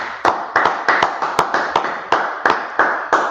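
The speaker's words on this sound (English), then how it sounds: "All right, everybody clap it up" A group claps in steady unison at a brotherhood class, sharp close claps landing about three times a second without a pause.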